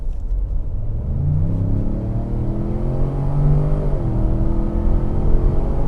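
A Ford Expedition Timberline SUV in sport mode accelerates hard, its engine rumbling loud and steady with rising harmonic tones over about six seconds, heard close from inside the cabin.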